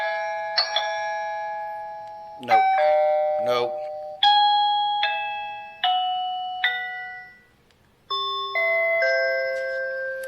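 A smart doorbell plays several short, bright chime melodies one after another, each ringing clearly and then fading, with a brief spoken voice between the tunes.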